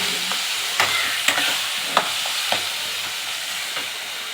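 A paste of onion, garlic, ginger and green chilli frying in a pan for biryani: a steady close sizzle broken by several sharp scrapes and clacks as it is stirred.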